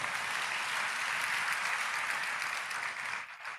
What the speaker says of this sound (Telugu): వీళ్ళు చప్పట్లు కొట్టి దేవుని మయంపరచండి